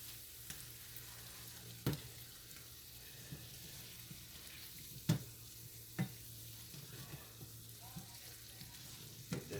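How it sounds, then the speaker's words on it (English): A spoon stirs a potato casserole mixture in a pan, making faint, soft scraping with intermittent clinks against the pan over a quiet background. "Just stir it up in there real good."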